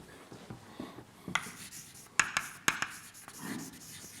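Chalk or marker writing on a board during a cell-biology lecture, with soft irregular strokes and a few sharper taps, fairly quiet with no talking.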